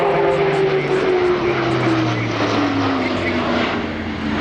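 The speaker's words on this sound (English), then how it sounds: "Now, powering up, turning in for what's become the signature of the Airbus" Airbus A400M military transport aircraft at an air show demonstration, its turboprop engines powering up into a loud, steady drone with a slowly falling pitch as it turns, continuous and fairly near throughout.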